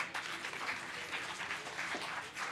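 An audience applauds children performing in a theatre play, steady clapping heard from a distance and fairly faint.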